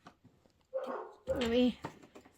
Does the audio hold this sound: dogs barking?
yes